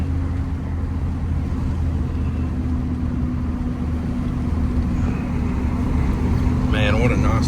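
An LB7 Duramax diesel truck with a ZF6 transmission and 5-inch exhaust drives along, giving a steady, loud, low engine drone from inside the cab that continues without a break.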